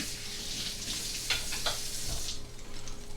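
Garlic sizzles steadily in avocado oil over medium heat for a moussaka-style fish stew, a dense continuous frying hiss with a couple of brief stirring scrapes, close and alone.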